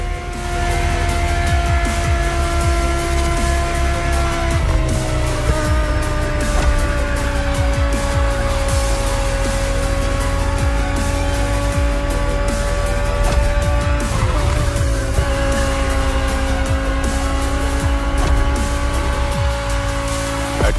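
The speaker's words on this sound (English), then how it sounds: "The 2020 Audi R8 LMS GT2." A 2020 Audi R8 LMS GT2 race car in The Crew Motorfest drives with a loud, sustained engine roar that shifts pitch through gear changes, with tire squeal mixed in and no talk.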